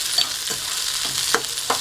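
Onions and curry leaves sauté in a pan for jackfruit seed poriyal, a bright, close sizzle punctuated by about four quick stirring scrapes.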